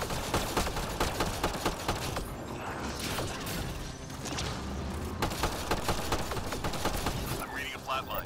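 Assault rifle gunfire in the Apex Legends battle-royale game, fast repeated bursts crackling through a dense mix of game effects and music, with a voice talking over it.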